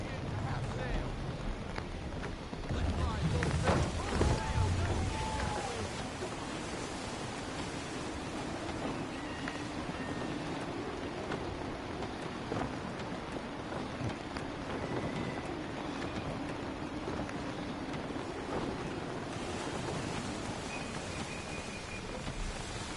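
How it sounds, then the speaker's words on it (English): Gusty wind and rolling waves at sea in Assassin's Creed 3, a steady broadband rush with a stronger surge early on, continuing evenly throughout at moderate level. "Wind looks to be shifting. Stay alert, Connor. Gusty winds can be difficult to manage."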